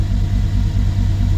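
A Mercedes CLS550 with a newly replaced transmission control module idles in reverse, giving a low, steady engine rumble with a rough, uneven texture and no other sounds over it.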